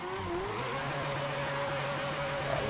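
Engine of a turbocharged drift car in the racing game Assetto Corsa, a steady mid-pitched harmonic drone that rises slightly, heard alone with no speech.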